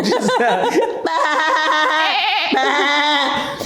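Someone imitates a goat with wavering, nasal bleats, close and loud, mixed with giggling and a chuckle from others nearby.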